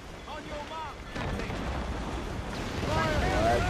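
Ship cannons booming in Assassin's Creed Rogue, heavy blasts rolling over wind and sea noise, with shouted voices of the crew mixed in.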